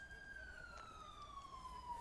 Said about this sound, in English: Sirens are going off in town right now.